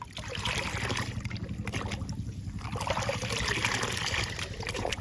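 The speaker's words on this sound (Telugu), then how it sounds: "బాగా కలవాలండి లిక్విడ్ వాటర్." Pomegranate peel liquid fertilizer being stirred into water, a steady close trickling and sloshing that continues throughout with no voices.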